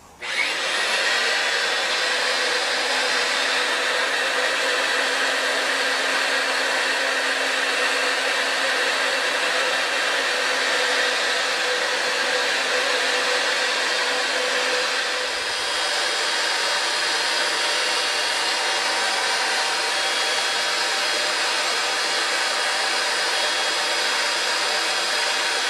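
A Ridgid 141/161 geared pipe threader starts up and runs steadily with a loud, continuous mechanical whine and hum. It keeps going for the whole stretch, with only a slight dip partway through and no talking.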